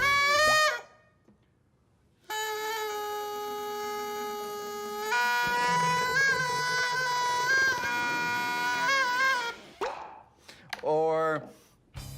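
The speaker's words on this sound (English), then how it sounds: "I like this one. I call it the loud bubble." A loud bubble blown from dish soap and water gives a sustained, buzzing, honking tone that lasts several seconds and shifts in pitch. A short, quieter wobbling sound and a brief voice follow near the end.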